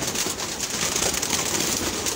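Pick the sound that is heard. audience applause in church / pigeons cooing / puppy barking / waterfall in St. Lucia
pigeons cooing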